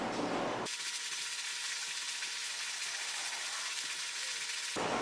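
Steady close ratcheting and gritty mechanical whirring runs throughout as a small screwdriver backs screws out of a magnetic fidget toy held between the fingers.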